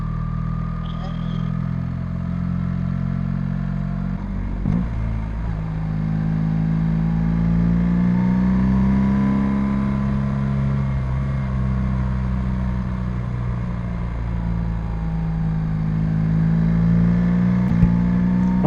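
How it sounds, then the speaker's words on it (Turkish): A prototype car accelerates along a winding mountain road in Romania, its engine note rising and falling for a long stretch and staying loud and fairly close. "Prototip araba."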